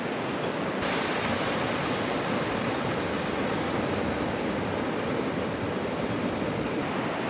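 Steady broadband rushing of a creek flowing past rock ledges in a canyon at Havasupai, constant and fairly close, with no voices.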